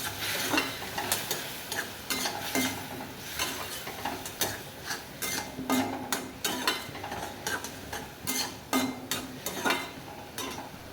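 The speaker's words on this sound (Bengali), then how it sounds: "ধনের গুঁড়ো আর একটা জিরের গুঁড়ো দিয়ে ভালো করে নেড়ে চেড়ে নেবো।" Ground coriander and cumin are stirred into a prawn and spinach curry in a pan, with repeated rhythmic scraping strokes over a soft sizzle, close and with no speech.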